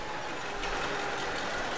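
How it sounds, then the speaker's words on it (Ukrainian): A tractor in Farming Simulator 19 drives along with a whining axle, giving a steady, loud broadband engine drone with a continuous high whine and no pauses. "Трактор їде, мост виє."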